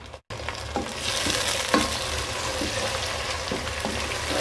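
Roughly chopped tomatoes hit a pan of garlic-ginger paste with steady, close sizzling and frying, broken by a few louder scraping stirs of a spoon.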